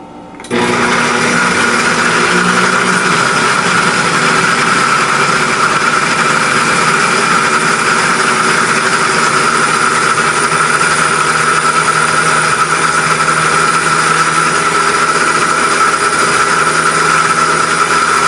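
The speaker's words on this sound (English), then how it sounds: "So the blender is going to be a little bit loud" A blender whirs steadily at high speed while blending garlic mayonnaise, a loud, continuous motor drone with a bright whine that starts abruptly and runs unbroken for the whole stretch, with no talking over it.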